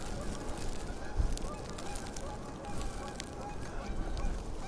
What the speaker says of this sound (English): geese are flying.